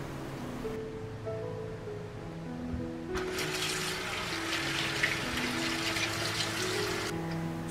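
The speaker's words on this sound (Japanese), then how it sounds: "そして顔を洗っていきます。" Tap water runs while someone washes their face at a bathroom sink in a summer morning routine. It starts as a steady, close rush partway in, over a quiet, low background hum.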